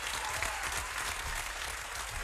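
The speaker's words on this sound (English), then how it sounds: "Nah, keep them applause going right there." Audience applause after a hip-hop freestyle in a studio room, a dense, steady wash of clapping from a crowd close by that holds evenly throughout.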